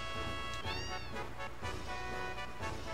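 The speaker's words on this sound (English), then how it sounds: "And I hear kitties." Cats meow in Final Fantasy VII, several quick cries, one rising and falling, over steady game music.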